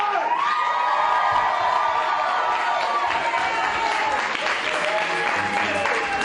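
A live show audience erupts in sustained cheering, whooping and applause, a loud continuous crowd roar with shrill shouts rising above it and filling the room from start to finish.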